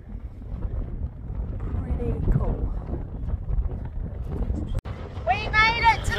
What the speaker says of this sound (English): What a surprise! It's windy!